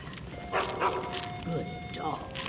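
A dog in the video game Skyrim giving a few short yips and whimpering barks, near, over a soft background hum, with a voice talking at the same time.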